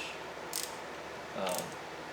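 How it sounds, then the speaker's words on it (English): A small 1/4 inch ratchet snugging 10 mm valve cover bolts on an Acura TSX engine, two short faint mechanical clicking strokes over a quiet garage hiss. "I like using a small 1/4 inch ratchet"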